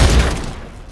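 A single loud, close gunshot fired in the zombie video game Dead Island 2, a sharp heavy blast with a short decaying tail.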